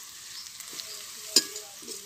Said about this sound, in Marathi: आता कांदा घालूया आणि थोडं त्याच्यामध्ये तूप